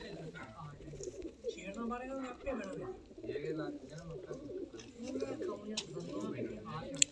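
Caged pigeons coo in soft, repeated low rolling calls up close, blending with people talking nearby throughout.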